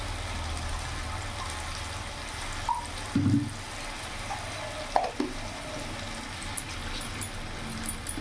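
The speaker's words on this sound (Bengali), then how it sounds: "সামান্য একটু জল দিয়ে গোটা ঢেলে দিলাম।" A little water poured into a pan of shukto vegetables with mustard-poppy paste, a brief splash and gurgle over a quiet background hum, followed by a couple of small clinks.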